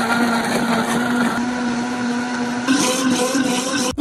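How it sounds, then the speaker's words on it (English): A blender crushing ice and pineapple whirs steadily at high speed for several seconds, loud and close, its motor pitch shifting slightly as the contents churn. "Now it's time to blend it up."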